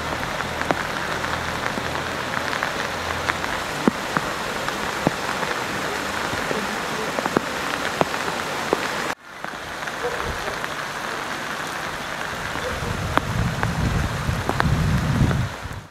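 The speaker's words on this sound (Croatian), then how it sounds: "Kiša i dalje pada" Steady rain pours during a flood in the village of Đurđevik, a dense, continuous hiss on surfaces with scattered sharper drops, close and loud, with a brief break partway through.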